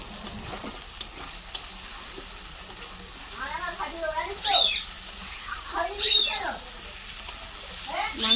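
Goat mutton sautéed and stirred in a pan for a thin home-style curry, with a soft sizzle beneath intermittent spatula scrapes and stirring strokes, while a voice talks faintly in the background.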